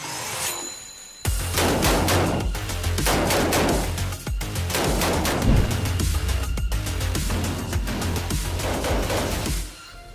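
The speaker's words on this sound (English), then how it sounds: "I had no issues shooting that gun." Rapid gunfire from a gun shot by someone wearing a bulletproof Italian-style suit, a loud, close string of sharp repeated bangs with echoing tails, continuing for most of the stretch with no talking.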